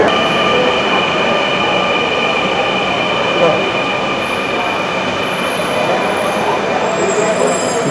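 A Dhaka Metro train pulls into a station with a loud, steady rumble and thin, sustained high-pitched wheel and motor whines, close and continuous.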